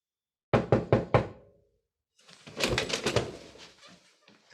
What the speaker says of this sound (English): Who's that rapping his gnarly knuckles on my solid oak?